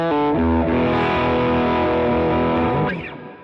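Electric guitar played through a Klon-style overdrive pedal rings out with crunchy, sustained chords, first a struck chord and then a held, gently distorted ring that fades near the end.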